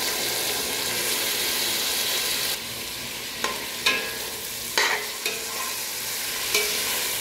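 Ginger and garlic fry in a pan with a steady sizzle, broken by a few sharp scrapes and knocks of a spoon stirring against the metal, close and alone with no talk.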